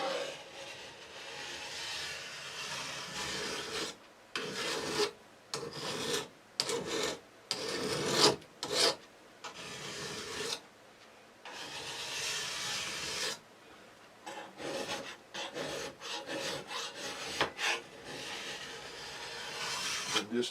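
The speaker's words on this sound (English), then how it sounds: "we'll take a file, regular flat file" Regular flat file rasping along the rails of a chainsaw bar from a Husqvarna 372 to deburr them, a series of close, scratchy strokes in uneven bursts separated by short pauses.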